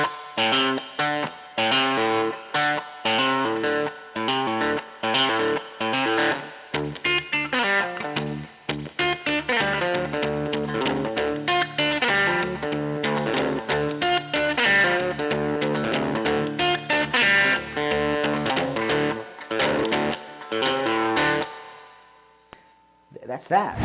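Electric guitar plays a swampy lick through distortion and effects, with a pull-off, dense sustained notes ringing continuously for about twenty seconds before the sound briefly dies away and returns.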